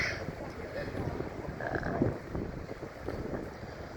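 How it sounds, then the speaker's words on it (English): Low, rumbling buffeting of wind hitting a microphone, continuous and gusty, with a voice faintly present underneath. "Oh, it's really windy."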